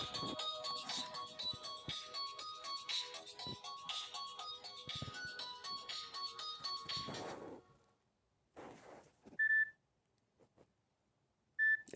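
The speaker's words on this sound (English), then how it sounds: "Every time I get a YouTube message from my tablet, I heard this." A tablet's YouTube message notification sounds as short, clear electronic beeps after a busy melodic ringtone tune fades out, each chime brief and isolated against near silence.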